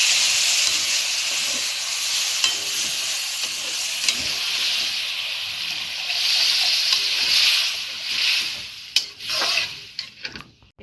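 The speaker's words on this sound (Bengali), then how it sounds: "এতে লঙ্কার গুঁড়ো দিয়ে নাড়ছি" Chili powder stirred and fried in a pan of tempering for masoor dal tadka, a steady bright sizzle with scraping stir strokes running throughout, up close, with sharper clicks and bursts toward the end.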